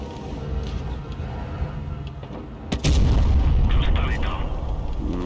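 Tank cannon fire in World of Tanks Blitz with a Vz. 55, a sudden heavy boom that swells into a loud sustained rumble over steady engine and battle noise, with a voice talking over it.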